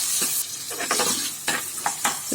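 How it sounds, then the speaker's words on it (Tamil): Small shallots sizzling and being stirred in a pan for chicken curry, with bursts of crackling frying and scraping strokes of a utensil, close and fairly loud. "இந்த சின்ன வெங்காயம் கொஞ்சமாக வதங்கட்டும்."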